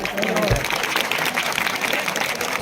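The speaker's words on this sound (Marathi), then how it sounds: "अशा जोरदार टाळ्या वाजल्या पाहिजे की तिच्या घरी गेल्या पाहिजे" Loud applause from an audience at a state-level open dance competition during a Shivaji Jayanti festival, sustained clapping throughout with a crowd murmur mixed in.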